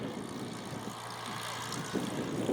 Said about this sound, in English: Rod's flying the aeroplane in Portuguese Air Force colours